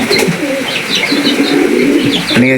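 Several farm pigeons coo nearby in low, rolling calls with light chirps, ending in a short burst of flapping wings.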